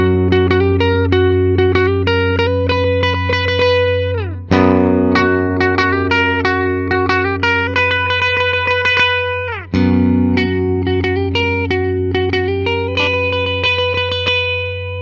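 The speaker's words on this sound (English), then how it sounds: "But listen to that neck pickup." A Gibson electric guitar played through its neck pickup with heavy distortion rips through fast, busy riffs and string bends, loud and close, with two brief pauses where phrases restart, no talking.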